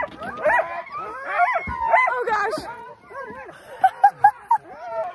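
Excited sled dogs at the start of their first run of the season in Lapland, Finland, barking, yipping and whimpering loudly up close, with a person talking over the racket and a burst of sharp yips near the end.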